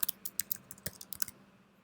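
Fast bursts of computer keyboard typing, a quick run of sharp key clicks up close, tapering off toward the end with no voice.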